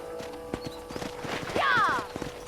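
Horse hooves clip-clop at a steady walking beat in Red Dead Redemption, with a whinny rising over the hoofbeats partway through.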